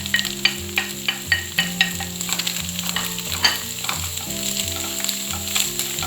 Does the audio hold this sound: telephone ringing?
no